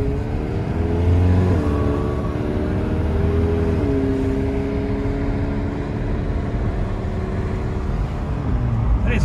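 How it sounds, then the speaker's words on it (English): McLaren 720S sports car pulling away, its engine note rising through a couple of gear changes, heard from inside the cabin as a steady, moderately loud drone with road noise underneath. "We are away in the McLaren 720S"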